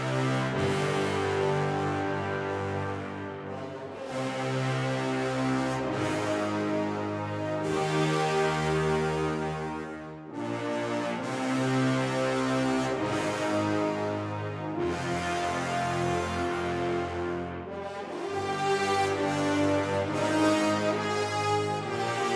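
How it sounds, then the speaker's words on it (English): Layered orchestral brass from a hybrid cinematic track, a solo descant horn and trumpet over a horn section, sustained full chords that swell and shift in blocks, loud and continuous with no talk. "The brass sounds like this."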